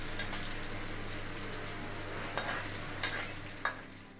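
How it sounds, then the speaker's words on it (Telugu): Tempering spices frying in hot oil in a pan for a homemade tomato pickle, a steady close sizzle with several brief sharp stirring scrapes near the end, no voices. "నెక్స్ట్ ఇంకా అవి బాగా ఇంకా ఫ్రై చేసుకోవాలి తాలింపుని."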